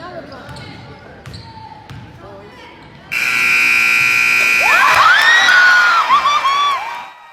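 A girls' high school basketball game where a half-court shot beats the third-quarter buzzer: after brief voices and a bounce or two, a loud long buzzer sounds as the crowd erupts in cheers and whoops.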